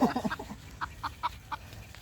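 A thin Texas-type gamefowl hen gives a short series of soft, rhythmic clucks close by, evenly spaced and fading toward the end, with no one talking over them.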